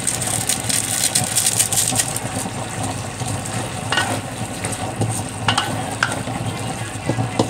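Bacon and marinated meat fry in a pan for igado, a steady close sizzle with stirring scrapes and occasional clinks running through the whole stretch, with no talk.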